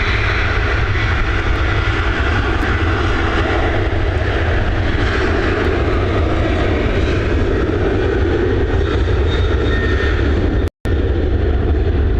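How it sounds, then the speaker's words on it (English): An Aer Lingus-operated airplane flies at Dublin Airport near runway 28L, its loud, steady engine roar filling the whole stretch without a break apart from a brief dropout near the end. "It's flying on behalf of Aer Lingus, I believe."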